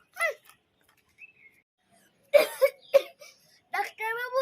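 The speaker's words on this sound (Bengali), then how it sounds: "আমার না খুব কাশি হইতেছে।" A child coughs and makes short vocal sounds between quiet gaps, with a few bursts of childish voice mixed in.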